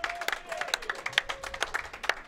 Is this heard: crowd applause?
yes